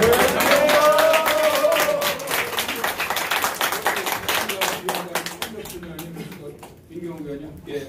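Audience at an apartment residents' meeting clapping, loud and dense at first, then thinning into scattered claps as it fades, with a voice speaking over the end.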